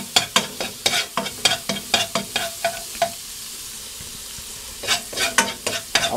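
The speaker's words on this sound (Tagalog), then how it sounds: "So gigisa lang po natin siya" Food being sautéed in a frying pan produces a soft sizzle under a rhythmic run of sharp spatula scrapes and clacks against the pan, pausing briefly midway before the stirring resumes.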